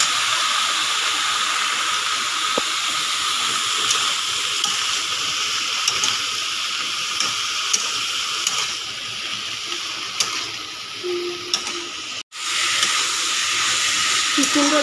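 Eggplant and potato curry with lentil dumplings (bori) fries in a pan with a constant, loud, close sizzling hiss that runs throughout, broken by a single sharp dropout.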